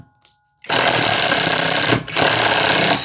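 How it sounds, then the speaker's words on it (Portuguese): An impact wrench drives into cambará wood with a loud, dense rattling hammer, one long burst, a brief pause and a second burst, close and alone after a faint click. "Vamos ver como que sai aqui a perfuração em Cambará,"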